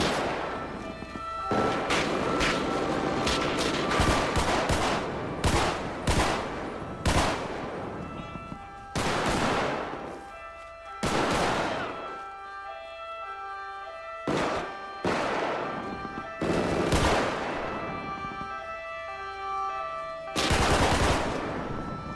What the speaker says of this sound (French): j'ai tiré sur le tireur